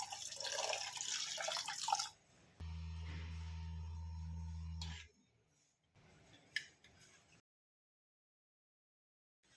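Water poured into a cooking pot of clams seasoned with turmeric and salt for kakka roast: a splashy pour of about two seconds, then a steady low hum and a few faint clinks close by.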